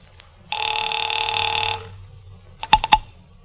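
Old-time radio drama telephone effect: a steady electronic ring tone held for over a second, then a pause and a quick burst of sharp clattering rings, loud and close with no voices.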